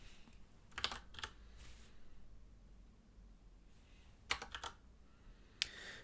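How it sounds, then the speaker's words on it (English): Keystrokes on a Razer BlackWidow Tournament Edition Stealth mechanical keyboard with Razer Orange switches, heard as quiet clusters of close clicks in a few short bursts separated by near-silent pauses. "using a Razer Black Widow Tournament Edition Stealth with Razer Orange Switch"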